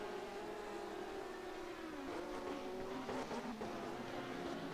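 GT3 race cars, a McLaren and Porsches, battle at Sepang in the rFactor 2 sim, engines droning and shifting pitch steadily as they run close together, with a loud, continuous roar throughout.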